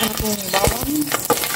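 Garlic sizzles and crackles in hot cooking oil, a loud, dense frying hiss broken by scraping stirs, up close with no talking.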